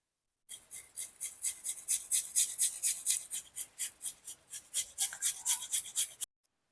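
Raw potato is grated by hand on a grater in a steady run of about two dozen rhythmic rasping strokes, close and clear with no talking.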